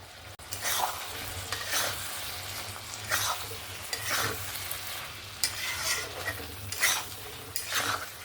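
Spiced masala for a Bengali raw jackfruit and prawn curry is stirred in a pan, with repeated scraping strokes and a soft sizzle underneath, close and steady with no voices.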